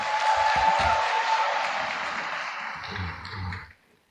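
An audience of young people gathered from many provinces claps together in a steady, moderately loud burst of applause that fades out abruptly near the end, with a few low thumps mixed in.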